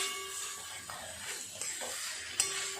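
Banana flower filling for chop is stirred and dried in a pan, giving a steady soft sizzle and hiss broken by a few sharp scraping strokes of the spoon.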